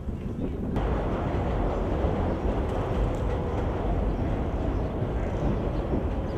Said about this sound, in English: That's the L train there